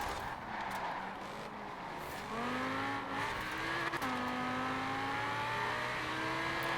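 Honda NSX race car in Forza Horizon 4 during an online race, its engine droning and rising through gears with pitch sweeps as it accelerates, moderately loud and steady, with no voices.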